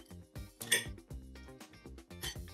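Utensil scraping and clinking against a dish while fried eggs are broken up for huevos rotos, with a handful of close, irregular taps and scrapes at moderate volume and no talking.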